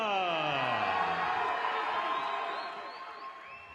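A local fight-night crowd at a Fury FC event cheers and whoops for fighter Joseph Garcia, with voices rising in pitch and then fading somewhat toward the end.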